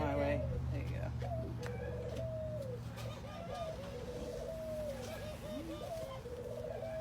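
Pet doves cooing repeatedly in soft, low, rolling calls close by, with several overlapping birds, while people talk quietly in the background.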